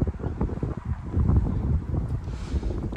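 Strong wind gusting through a cemetery surrounded by forest, a rough, roaring rumble of buffeting against the microphone, close and continuous without a break, no voices.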